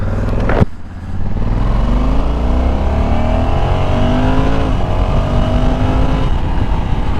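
A 2020 Honda Africa Twin 1100 Adventure Sports DCT motorcycle opens up hard from a low idle, the engine note climbing steadily through loud, close acceleration with rising pitch and no speech.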